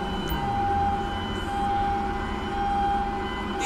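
Ambulance siren in the video game GTA with the LSPDFR police mod, a steady wailing tone sustained throughout at moderate level over a rumbling engine and traffic bed.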